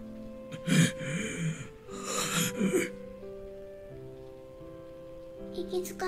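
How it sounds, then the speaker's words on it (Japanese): Labored, pained breathing in an otome game scene: a few ragged gasps and throat-catching breaths in the first half, then quieter breathing over a steady soft musical tone. "息遣いが聞こえる。 ひどく苦しそうな。"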